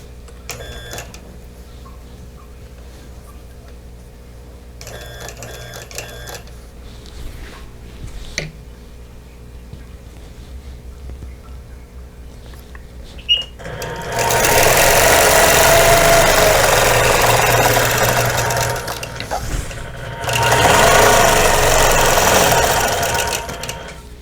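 Sewing machine quilting feathers on a China Plate quilt, a loud close whirring needle drive in two long bursts with a short stop between, following quieter stop-start stitching and handling.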